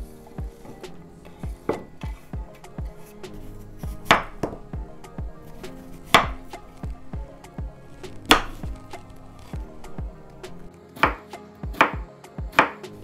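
Knife chopping zucchini and cucumber, skins left on, into small cubes on a cutting board: a steady run of sharp, close chops with irregular spacing and several louder strikes, heard alone.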